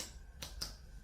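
A few crisp key clicks tap out in quick succession, close and fairly quiet, like typing on a compact book-cover keyboard for a Samsung Galaxy Tab S8 Ultra tablet.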